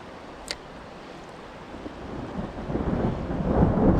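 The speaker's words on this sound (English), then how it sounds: "Thunder." Thunder rumbles through a thunderstorm with rain while fishing for smallmouth bass in Vermont, a low continuous roar that builds steadily louder over a few seconds, with a brief sharp crack near the start and no talk.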